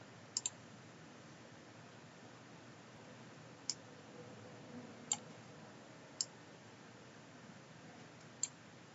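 A computer mouse clicking, a handful of faint, sharp isolated clicks spaced seconds apart over a quiet hiss, including a quick double click at the start.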